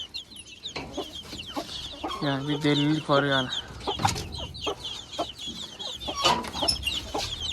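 A flock of poultry with a mite infestation clucks and squawks close by, with a burst of louder harmonic calls in the middle and sharp scattered clucks throughout, while someone briefly talks.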